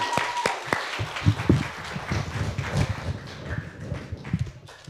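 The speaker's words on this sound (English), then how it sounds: "let's give a round of applause to Gabriella Coons" A school audience at a community storytelling event breaks into steady applause, many hands clapping at once in a dense, continuous patter that tapers near the end.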